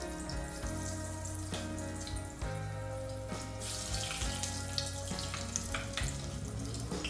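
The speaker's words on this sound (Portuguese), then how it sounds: "agora vamos fazer a nossa fritura dos nossos croquetes" Oil sizzling and crackling continuously as meat croquettes deep fry, with a low hum and occasional clinks; no voices.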